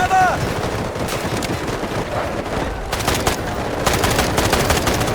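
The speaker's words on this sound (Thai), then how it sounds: "ยิงไม่โดนเฉย" Gunfire in the Delta Force shooter game: dense bursts of automatic rifle fire rattling continuously over a noisy battlefield, loud and close, with sharper volleys near the end.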